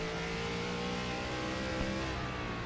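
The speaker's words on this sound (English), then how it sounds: "just hear him feathering it a bit as he goes through that middle section" Sim racing car engine droning steadily through a corner in an ARCA-style oval racing game, with a sustained engine tone and slight throttle modulation, no voices over it.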